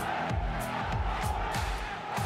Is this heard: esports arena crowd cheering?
yes